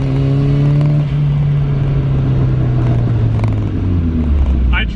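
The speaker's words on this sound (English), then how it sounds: "Flatfoot shifting is working as well." A turbocharged Mazda Miata engine holds a loud, steady drone that sags in pitch and then rises again as a flat-foot shift goes through, heard from inside the car.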